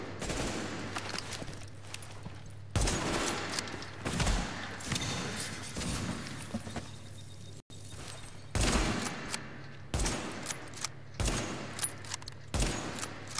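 Gunfire in the video game The Division, heard as repeated loud bursts of rapid automatic shots separated by short pauses, with heavy thuds among them.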